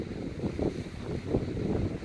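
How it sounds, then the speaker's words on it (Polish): Cold wind gusts on a beach pier at Kołobrzeg buffet the microphone in low, rumbling waves, steady and fairly quiet, with no voices. "Na pewno słyszycie wiatr."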